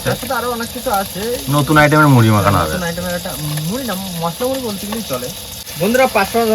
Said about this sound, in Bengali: বন্ধুরা এদিকে কিন্তু আলু ভাজা আর পেঁয়াজ ভাজা হয়ে গেছে